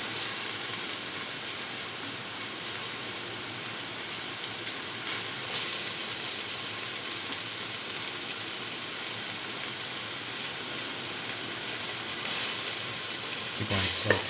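Tomato pieces sauteed in a pan for a beef okra stew, a steady moderate sizzle and hiss that runs throughout, with a brief stirring clatter near the end.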